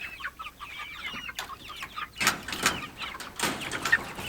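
Meat chickens out on a farm pasture give soft, scattered clucks, fairly faint, with some rustling and louder bursts of movement later.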